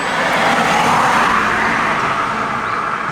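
A 1976 Peugeot 204 barn-find engine revs hard on the throttle, a loud, steady broadband roar that holds close and constant throughout with no gaps or voices.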